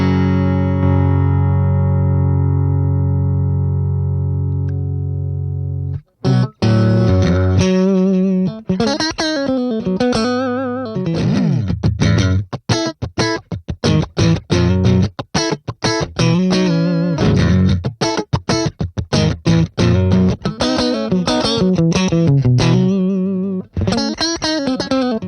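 Electric guitar runs through a compressor pedal in the Neural DSP Archetype Cory Wong amp plugin, opening with a sustained chord, then launching into busy, tightly clipped funk strumming and single-note licks, loud and even.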